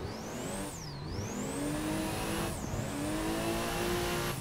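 Drifting race cars approaching in Assetto Corsa, engines revving hard with rising and falling pitch as they sweep past, loud and continuous, with shifting gears and faint tire squeal.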